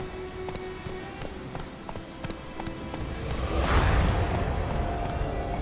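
Roach the horse galloping in The Witcher 3, rapid hoof clip-clops building to a louder rushing swell near the end, with no voices over it.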